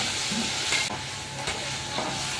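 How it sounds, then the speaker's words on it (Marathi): Vegetables sautéing in hot oil over a low flame, a steady close sizzle broken by a few stirring scrapes, with no voices. "तर याला बारीक गॅस थोडंसं लाल करून घ्यायचं, परतून घ्यायचे"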